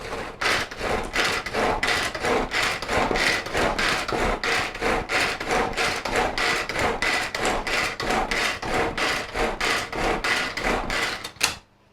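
Smoked salmon spread is stirred briskly in a bowl, giving a fast, regular run of scraping, tapping strokes close by for about eleven seconds before stopping abruptly.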